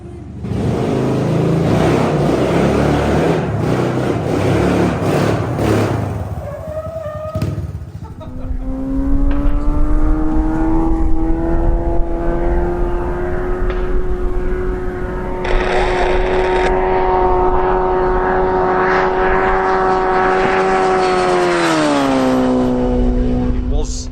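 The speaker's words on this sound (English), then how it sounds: "I'm going to clip to show you some footage of this bike wheeling." A turbocharged Suzuki GSX-R wheelie bike built for 180 mph roars loudly and close, first with a rough, noisy burst, then a sustained high rev that holds steady before climbing sharply near the end.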